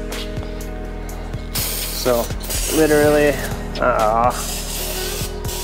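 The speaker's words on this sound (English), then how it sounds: "I'm just gonna take a little brake clean, spray them off real quick." Brake cleaner is sprayed in a long hissing burst onto the brake rotors of a Ford Expedition during a brake job, while someone talks over it and squeaky tones rise above the spray.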